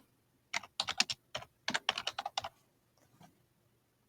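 Quick bursts of keystrokes on a computer keyboard, two clusters of fast clicky taps followed by a few softer presses, close and quiet with no talk.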